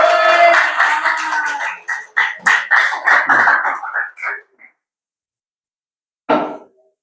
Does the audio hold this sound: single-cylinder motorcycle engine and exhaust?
no